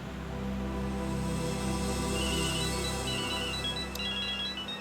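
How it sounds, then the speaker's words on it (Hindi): A phone ringtone plays continuously, a repeating melodic tone that fills the whole stretch with no one speaking. "अरे मैडम जी अब आपका भी फोन बज रहा है"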